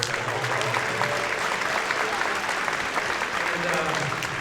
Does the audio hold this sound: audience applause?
yes